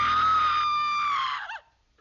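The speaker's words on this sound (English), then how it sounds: "A woman sees her and screams for a second" A woman screams in a horror film scene, a single loud, shrill, sustained cry lasting about a second and a half before cutting off into near silence.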